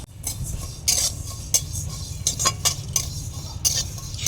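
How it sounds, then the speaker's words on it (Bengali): Whole coriander, cumin, fennel and five-spice mix dry-frying in a hot, dry pan, stirred with repeated sharp scrapes and clinks of a metal spoon over a faint, low sizzle. "এবার আমি মশলাগুলোকে একসঙ্গে ভালো করে ভেজে নেব"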